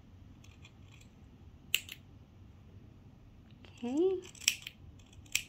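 Scissors snip around the sewn seam of a fabric baby comfort toy, making a few faint, crisp cuts in a quiet room. A brief spoken word comes before them.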